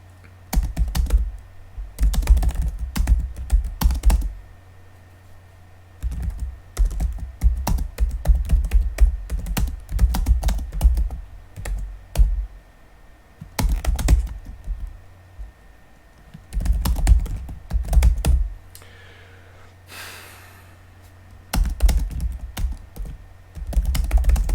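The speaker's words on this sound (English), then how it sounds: "I'm gonna type without talking for a little bit" Steady typing on a computer keyboard, close and clear, with bursts of rapid keystrokes broken by short pauses and a low constant hum underneath; no one speaks.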